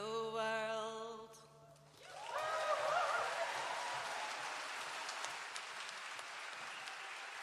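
A concert audience breaks into sustained, fairly loud applause that swells after a sung passage fades and then holds steady to the end.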